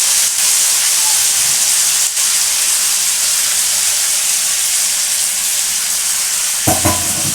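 Water poured into a pan of frying onions for a Barisal-style hilsa fish dish sets off a loud, continuous close sizzle and hiss that holds steady throughout, with a brief clatter near the end.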